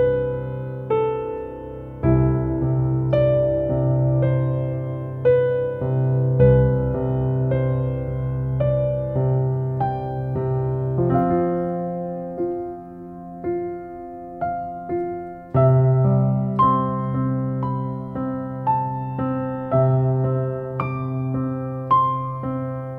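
A slow, lyrical melody from the Loki episode 1 orchestral score, carried by sustained strings over soft low harmony, swelling gently in a continuous line without voices.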